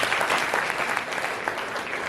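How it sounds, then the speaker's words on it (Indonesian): Seminar audience applauding a university professor, a dense burst of clapping from a crowded hall that continues steadily throughout. "Tepuk tangan beliau"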